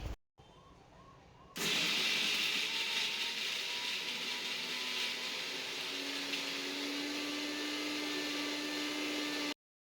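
A mixer grinder runs dry on a coriander chutney. After a brief quiet start with faint clicks, the motor kicks in abruptly and holds a loud, steady whir until it cuts off at the end.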